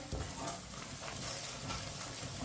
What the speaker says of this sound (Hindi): कम आंच पे मसालों को पकाएं